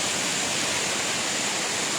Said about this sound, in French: Donc on vous montre souvent la cascade en haut des tufs.